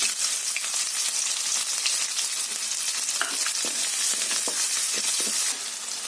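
Onion and dal frying in hot oil with mustard seeds in a pan for a spinach dish, a steady close sizzle with scattered stirring scrapes and crackles throughout, no voices.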